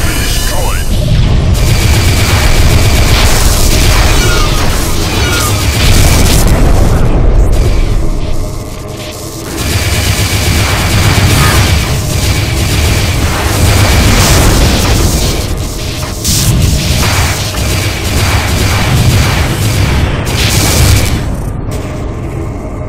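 Heavy rumbling blasts and booms roll on continuously in Freespace 2 as the Aeolus is destroyed, loud and dense, with bursts and mechanical clatter layered throughout.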